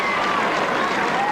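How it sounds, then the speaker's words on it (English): A crowd applauds at a televised network-stars competition event, a dense steady wash of clapping and cheering heard at a distance and continuing throughout the short moment. "amidst the crowd's applause and approval there."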